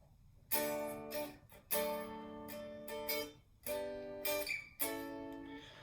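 Guitar chords ring out one after another, five strummed triads spaced about a second apart, each sustaining clearly before the next, played close and alone.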